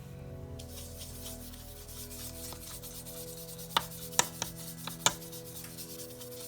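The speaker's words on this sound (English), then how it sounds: "right now, we're going to bring in our powder tool" An anti-static powder tool rubs across paper in a continuous soft brushing scrape, with a few sharp taps near the end, close and fairly quiet.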